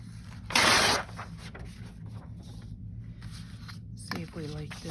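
Scissors snip through a piece of craft paper in one short, bright burst of crisp rustling, with a quiet room and a voice resuming briefly afterward.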